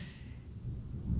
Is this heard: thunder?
yes